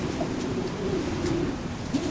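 Soft, low cooing from racing pigeons close by in a loft, repeated murmurs over a steady hum of background noise.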